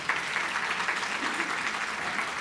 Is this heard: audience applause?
yes